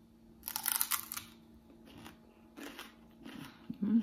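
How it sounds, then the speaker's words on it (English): Crunchy, creamy, savory food is chewed up close in several separate crisp crunching bursts with quiet gaps between them, and nobody speaks. "It's like the contrast between crunchy, crunchy and creamy, savory."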